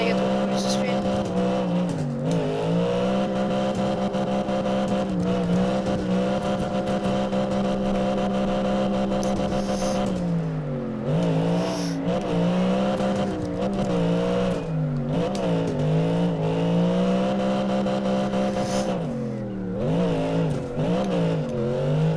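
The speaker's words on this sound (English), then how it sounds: "this is how you start off a quick drift" A car pulled into a handbrake drift in first person, with a droning engine that rises and falls through repeated revs and tires squealing along the slides, while someone talks over the noise.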